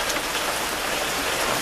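Heavy rain pours down in a dense, steady roar of drops hitting surfaces, loud and continuous without a break.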